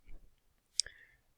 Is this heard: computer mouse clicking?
yes